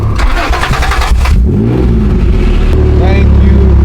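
An Acura NSX that has sat unused for nearly six months cranks and fires up, its engine catching and settling into a steady idle, with people talking nearby over the engine noise.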